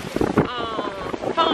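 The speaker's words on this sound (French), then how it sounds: "il y a beaucoup de vent, alors j'espère que vous avez bien entendre avec le son" Strong wind buffeting the microphone beside a campsite swimming pool, a loud continuous rumbling roar with gusts, while a voice speaks underneath.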